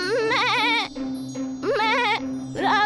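A goat bleats three times in a row in a fairy tale, loud and close, each call wavering and nasal, with short pauses between calls and a steady low hum beneath.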